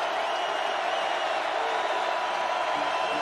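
Football stadium crowd at the North Dakota State vs Montana FCS championship semifinal, a dense, loud, continuous roar that holds steady throughout without a clear build.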